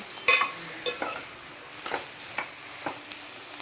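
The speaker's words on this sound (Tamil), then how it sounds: "பீரக்காய் போட்டு கலந்துக்கலாம்." Ridge gourd stirred in a frying pan for an egg curry, a soft sizzle underneath scattered scraping strokes of a spoon, moderately close and without talk.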